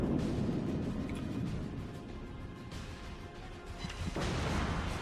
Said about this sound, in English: Now you see I got shots out again.